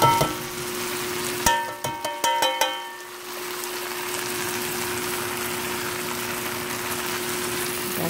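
Rice frying in a pan with bacon pork, opening with a few sharp clatters of utensil on pan, then a steady, close sizzling hiss that runs on alone with no talk.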